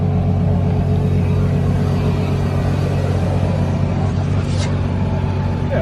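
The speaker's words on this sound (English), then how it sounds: "Does sound nice on tick over." Ferrari FXX safety car with roof light bar idling in the supercar paddock at Goodwood Festival of Speed, a steady, loud, close engine rumble holding an even tick-over with no revving and no talk.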